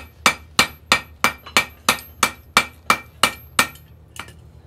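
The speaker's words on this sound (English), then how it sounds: "I'm using a hammer and hitting it on the edges and corners of it." Ten or so sharp, ringing hammer blows land on hot metal on a blacksmith's anvil in a steady, even rhythm, close and loud, then a lighter final tap.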